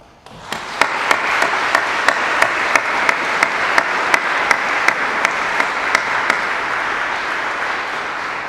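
Audience applause at an annual parish meeting: a sustained round of many hands clapping, steady and fairly loud, with a few sharper individual claps standing out, running about eight seconds before tapering slightly.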